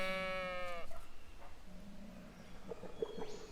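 In the video game Roadwarden, a sheep gives a single drawn-out, nasal bleat, followed by quieter ambient tones and faint ticking sounds, with no talk.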